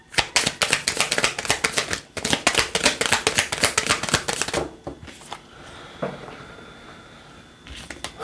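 Tarot cards riffle-shuffled close up in rapid, crisp bursts for about four seconds, then a brief pause before softer, sparser card handling and a final short flurry.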